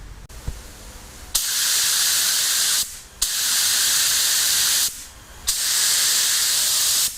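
A paint spray gun blasts thinner in three long bursts to clean itself out, each a loud, steady, close hiss that cuts off sharply, with brief quieter gaps between them.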